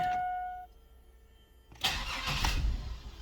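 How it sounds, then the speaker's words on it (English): Quiet hum, then a 2003 Chevrolet S-10 pickup engine suddenly cranks and catches, rumbling loudly and unevenly as it fires up close by. "Oh, starter's kicking."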